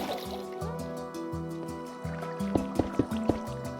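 Flowing water in Minecraft during a hardcore survival build, a burbling, gurgling stream with a few sharper block clicks near the end, close and fairly steady.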